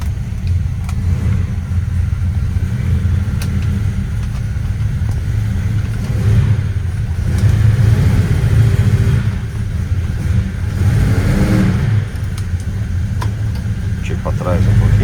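A rare Simca Alvorada with a V8 engine rumbles with a deep, steady idle that swells in a few throttle blips, the low engine note close by and continuous under background noise.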